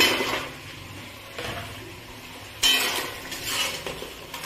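Fried fish heads being stirred into a cooking spice paste for moong dal: a low sizzle under scraping and clinking of a utensil against the pot in a few separate bursts, close and without speech.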